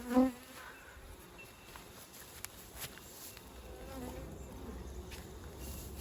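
Honey bees buzz around an opened hive during an autumn varroa check, a constant agitated drone near the microphone, quiet overall with a brief louder pass at the start.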